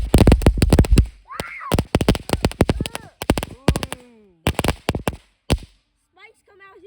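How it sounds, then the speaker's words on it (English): Fireworks, including a smoke-bomb type, go off close by in a rapid string of loud cracking pops and crackling bursts, with children exclaiming and talking between the blasts. "You gotta wait till the fireworks done before you walk up on it."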